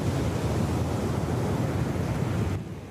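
Heavy surf and gusting wind at Lovers Bay on the Yilan coast of Taiwan as strong Typhoon Kong-rey approaches; a loud, continuous roar of crashing waves that drops away abruptly at the end.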